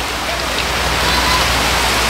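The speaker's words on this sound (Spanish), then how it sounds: "Nos va a tocar que irnos bajo la lluvia," Heavy rain falls steadily, a loud, dense hiss close by with no letup.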